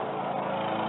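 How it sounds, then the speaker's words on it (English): A lawn mower cutting grass runs steadily in the background, a continuous droning engine hum at moderate level with no break. "You probably hear the lawnmower in the background."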